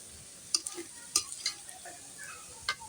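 Noodles with carrot and potato stir-fry in a pan, with a low sizzle under scattered sharp clinks and scrapes of a utensil against the pan coming in irregular bursts, close and moderately loud.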